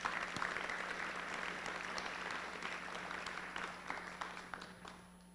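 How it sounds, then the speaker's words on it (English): A pep-rally crowd in a school gym claps for the parents, a broad, dense wash of applause heard from some distance, fading slightly toward the end with a steady hum underneath. "So let's give them a round of applause."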